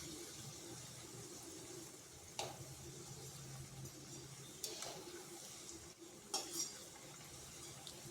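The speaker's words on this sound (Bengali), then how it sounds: "এগুলোকে এইভাবে একটু নেড়ে চেড়ে ভেজে নিচ্ছি, যাতে 4-5টা সমানভাবে ভাজা হয়।" Poha cutlets frying in a pan while being stirred, a quiet sizzle under soft scraping and a few sharp clinks of the spatula against the pan, close but faint, no talk.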